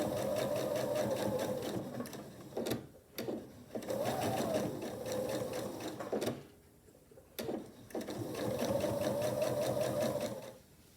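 A sewing machine runs steady bursts of stitching down a quarter-inch seam on a miniature quilt wall hanging, pausing briefly twice and then resuming with a close, even motor whir.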